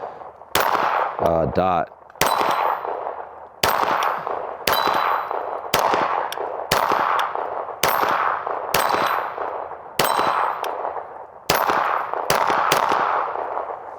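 Pistol shots from a Canik TTI Combat ring out in a paced string of about a dozen sharp reports, each followed by a bright metallic clang of steel targets, loud and close, with a brief voice near the start.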